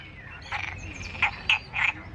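Small frogs in Santa Cruz, Tenerife give several sharp, high-pitched croaks in quick succession, close and clear over a quiet background hum.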